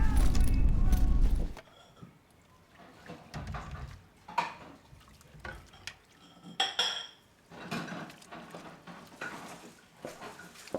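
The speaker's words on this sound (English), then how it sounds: "you don't need to do the dishes" Dishes being washed in a home kitchen, with pots, plates and cutlery clinking and clattering in irregular bursts after a loud opening noise, close and fairly clear, with voices in the room.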